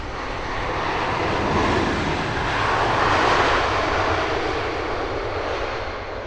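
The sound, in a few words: British Airways Airbus A380 landing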